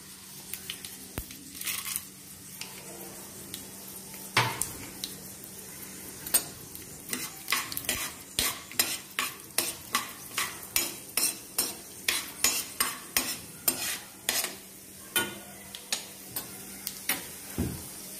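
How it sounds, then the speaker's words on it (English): Chana dal fries in a pan while a utensil scrapes and taps it in quick, regular strokes over a faint sizzle, starting sparse and becoming a steady rhythm close by. "Now I am adding half tablespoon of chana dal or chickpea."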